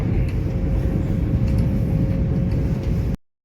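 Suburban train in Australia riding along the line, a loud steady low rumble with a faint constant whine, heard from inside the carriage until it cuts off abruptly.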